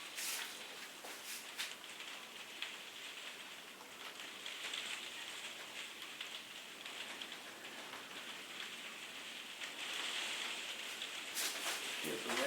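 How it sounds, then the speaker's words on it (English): Rain falls steadily outside at a street bar in Porquerolles, a soft, even hiss of drops on surfaces that carries on throughout, with a few faint sharper taps and slightly heavier patter near the end. "Here's the rain outside again."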